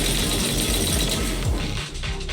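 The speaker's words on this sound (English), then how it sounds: "A modded Guardian Mark II tactical mech?" Mechanical clanking and grinding of a modded Guardian Mark II tactical mech in a Zenless Zone Zero battle, dense heavy rumbling thuds and ratcheting movement, loud and continuous.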